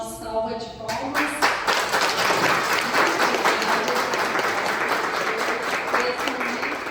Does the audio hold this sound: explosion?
no